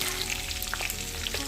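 Capsicum frying in a pan over a medium flame for capsicum rice, a steady close crackling sizzle with small pops, continuous and alone without talk.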